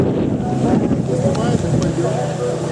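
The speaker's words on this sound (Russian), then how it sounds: "Ну а пока вот такой вот ветер." Strong wind on a high ski slope in a blizzard, roaring steadily and buffeting the microphone close up with a constant broadband rush.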